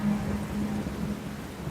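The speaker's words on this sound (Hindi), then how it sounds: "बारिशें आ गई" Rain falls in a continuous hiss while thunder rumbles low underneath, and a faint steady tone hums through the scene.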